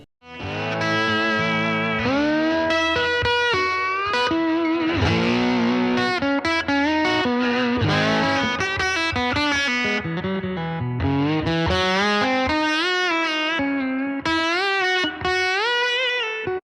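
Distorted electric guitar through a Fender Tone Master Princeton Reverb amplifier playing a continuous melodic passage with sustained, overdriven notes and chorus-like shimmer and echo, loud and close throughout.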